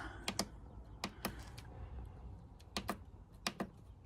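Two crisp double clicks from a portable power station button, with a further pair of sharp clicks a second or so apart, each short and close, heard over a low steady background hum.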